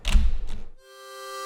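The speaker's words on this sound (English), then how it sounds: "and patting the keyboard." Soft foley thumps from hands patting a keyboard, two muffled pats in quick succession, close and dry, followed by a sustained tonal music chord ringing out.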